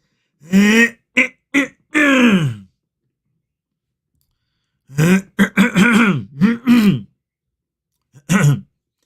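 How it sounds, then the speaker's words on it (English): Two bursts of deliberate throat clearing, the first short and the second longer and more drawn out, with a gap of silence between them. "Didn't you feel like you had to clear your throat right there with me?"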